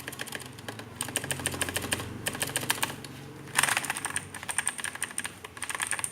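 Someone types on a Gigaware K26 104-key mechanical keyboard, producing steady, close clicky keystrokes with a brief louder flurry midway.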